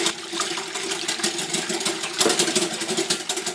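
Milk being whisked fast into chocolate birthday cake batter in a bowl, a steady, close, buzzing whir with a rapid rhythmic churn that runs continuously without pause.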